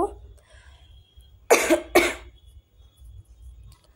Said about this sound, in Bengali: জ্বরটা যাওয়ার পর এখন পুরো কাশিতে ধরেছে, বড্ড কাশি হচ্ছে